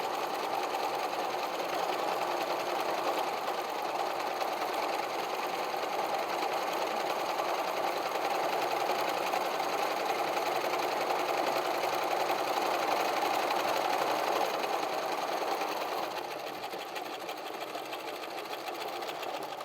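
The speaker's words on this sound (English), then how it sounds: "So we're sewing 2 belts, one for each side, the right side and the left side." A sewing machine runs steadily while stitching fabric apron belts: a continuous close whirring drone that stays even for most of the stretch, then eases slightly near the end.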